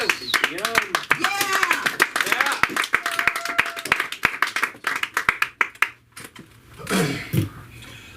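An audience at a comedy club claps for a comedian taking the stage, a run of distinct, close hand claps under a host's voice, thinning out before the performer begins to speak.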